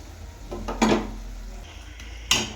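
Spoon scraping and stirring mashed eggplant bharit in a metal pan, a few close clinks and knocks among soft mixing scrapes, no voices.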